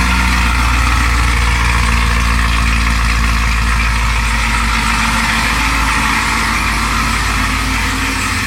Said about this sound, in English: That was an official cold start for you guys